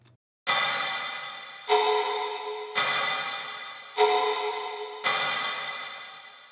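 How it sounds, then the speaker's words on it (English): Five big percussion hits drenched in heavy reverb, layered over a clap and snare, each striking loud and sharp then decaying in a long wash, repeated at a steady rhythm of about one per second. "we have a percussion hit with a lot of reverb on it"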